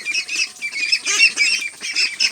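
Peking duck ducklings about two weeks old calling nearby, a dense overlapping chorus of high, rapid peeping calls.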